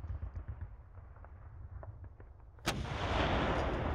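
Artillery opportunity fire from the strategy game Panzer Battles North Africa. After a low rumbling stretch, a single loud, close blast hits sharply and rolls into a sustained roaring wash of noise.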